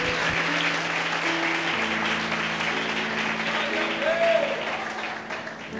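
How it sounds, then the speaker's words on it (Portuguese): A church audience applauds, a sustained rumble of clapping mixed with a low hum and some murmuring voices, swelling slightly toward the end. "Então esse merece uma salva de palmas"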